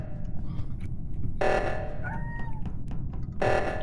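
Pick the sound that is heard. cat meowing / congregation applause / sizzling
cat meowing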